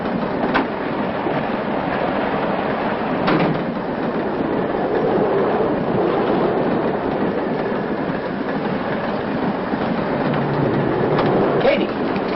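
A train running on rails delivers a steady, continuous rumble with rhythmic clickety-clack of wheels over joints, loud and close throughout, as if heard from inside a passenger car.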